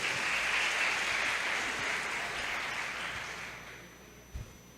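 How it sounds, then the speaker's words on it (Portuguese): A church congregation applauding, a broad, even wash of many hands clapping that holds steady and then slowly fades, with a single soft thump near the end. "Vamos aplaudir ao Senhor por isso?"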